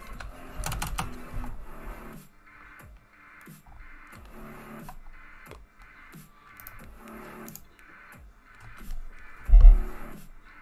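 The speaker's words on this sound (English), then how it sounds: "I'm just tired of typing." Someone types on a computer keyboard in bursts of rapid clicking keystrokes, close and fairly quiet, with short pauses between runs and a louder clack near the end.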